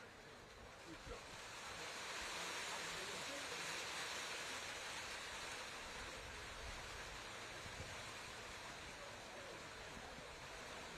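Heavy rain and gusting wind sweep across an outdoor university rugby match between Cardiff Met and Leeds Beckett, a dense, steady hiss and roar that swells after the first seconds and stays constant.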